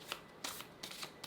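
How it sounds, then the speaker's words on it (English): Crisp riffling bursts of tarot cards being shuffled, several quick shuffles in a row, close by and fairly soft, with no talking. "can't even shuffle right."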